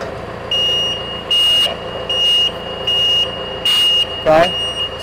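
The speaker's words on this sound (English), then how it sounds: "Even though the beeper stops beeping" A warning buzzer on a Bale Band-It machine beeps in a regular repeating pattern, about six loud sustained tones with short gaps, then stops, followed by a brief voice.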